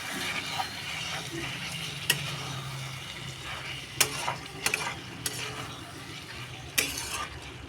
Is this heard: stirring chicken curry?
yes